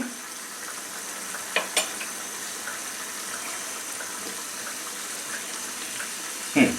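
Bengali curry at a steady boil in a covered pot, giving a constant soft bubbling hiss with a few faint clicks and a brief louder rattle near the end, heard close by.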